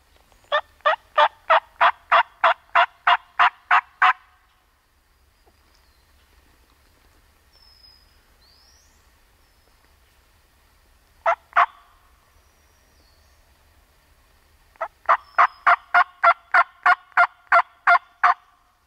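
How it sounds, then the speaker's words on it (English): A wild turkey gobbler gobbles in two loud rapid bursts on public hunting land, separated by a long quiet stretch with a brief double call in between. "I don't know if that other hunter would have heard that gobble"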